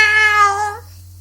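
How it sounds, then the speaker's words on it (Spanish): A cat yowls in one loud, harsh, drawn-out meow that fades away after under a second, close and alone. "el gato de las guindillas dio simultáneamente un acrobático salto acompañado de rabiosos maullidos"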